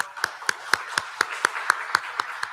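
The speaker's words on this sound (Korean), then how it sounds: "우리 박수하겠습니다." A congregation at a Sunday morning church service claps in unison, about ten sharp, evenly spaced claps in a steady rhythm, close and clear.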